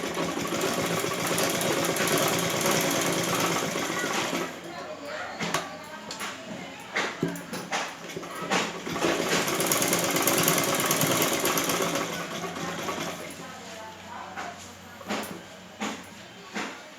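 A sewing machine stitches the back neck of a blouse, running in a loud, steady whir at first, then breaking into shorter bursts with pauses and clicks between them.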